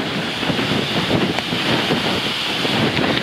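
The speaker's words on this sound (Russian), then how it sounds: "Что-то ветер поднялся прям вообще ужасный." Strong wind gusts over the Volga cliffs in the Saratov steppe, a loud, continuous roar buffeting the microphone with no voices.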